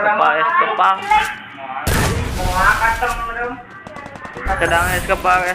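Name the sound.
grenade explosions in Free Fire video game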